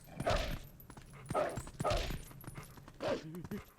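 Puppies in The Legend of Zelda: Twilight Princess HD yip and bark in short bursts, four clear yelps at uneven intervals, close and moderately loud, with a faint whimper at the end.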